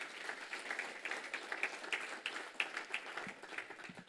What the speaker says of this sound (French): je vous demande de les applaudir tous.